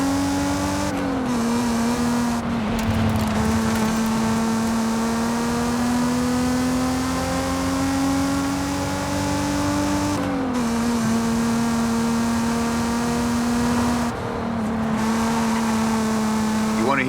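A car engine in Forza Horizon 5 holds a steady, loud, sustained drone with rising pitch sweeps as it accelerates through gears, brief shifts marking each change, continuous throughout with no talk.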